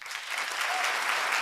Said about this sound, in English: Applause for the answer.